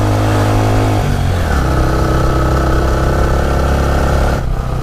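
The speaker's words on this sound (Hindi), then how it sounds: "अभी तो मेरे बाइक का भी अच्छा खासा जोर लग रहा है।" A motorcycle engine labours loudly and steadily up a steep mountain road to Toli Peer in Azad Kashmir. The drone is continuous and close, with one shift in pitch partway through.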